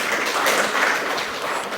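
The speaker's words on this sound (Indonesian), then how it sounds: "Tepuk tangan dulu." Applause from an audience after an internship presentation, a dense steady wash of clapping hands lasting under two seconds without talk.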